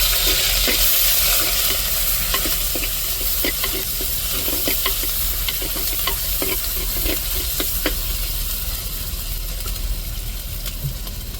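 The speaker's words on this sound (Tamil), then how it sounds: "எண்ணெய் சூடேறிட்டு நம்ம அம்மியில் இடித்த சின்ன வெங்காயம்" Crushed small onions, pounded on a grinding stone, sizzling in hot oil in a clay pot, a steady close hiss with intermittent crackles and spatters and occasional scraping stirs throughout.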